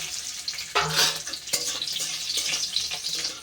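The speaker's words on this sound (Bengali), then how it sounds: "এই লঙ্কা আর রসুনটা একটু তেলের মধ্যে নেড়ে নিয়েছি 10 সেকেন্ড মতো" Chopped garlic and green chillies with cumin sizzle loudly in hot oil while being stirred, with a steady close frying hiss and brief scraping bursts.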